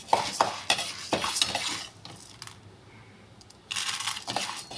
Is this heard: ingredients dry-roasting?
yes